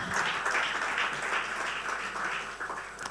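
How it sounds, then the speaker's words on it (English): Sustained applause from a sizable crowd at a real estate awards event, steady and loud throughout with dense overlapping claps and no voices on top. "We can make that applause louder."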